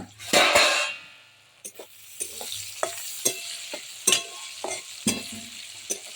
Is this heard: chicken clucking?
no